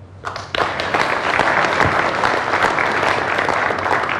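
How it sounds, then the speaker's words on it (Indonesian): A studio audience at an Indonesian televised talk show breaks into loud, sustained applause that swells quickly and continues evenly throughout. "aplaus dulu untuk Budi Cilo"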